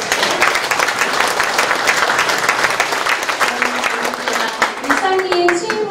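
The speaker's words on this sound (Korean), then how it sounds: "우리 이 길 같이 걸어오고 있는 이분에게 같이 박수 한번 쳐주실까요?" An audience at a talk concert marking the Icheon mayor's 100th day in office claps loudly with a thick, continuous burst of applause, and a few musical tones come in near the end.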